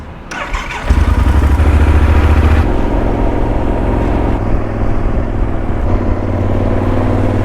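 A motorcycle engine fires up and revs loudly near Pamplona, Spain, then settles into a close, throaty running rumble with shifting pitch as it rides.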